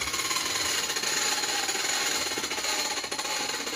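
A table saw blade runs steadily through wood, cutting a mortise and tenon joint, with a continuous loud, dense whine and no pauses.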